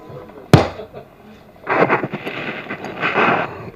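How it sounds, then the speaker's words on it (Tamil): Firecrackers go off at a film success celebration event: one sharp, loud bang, then a pause, then long rolling bursts of rapid crackling pops close by. "பட்டாசு வெடிக்குது."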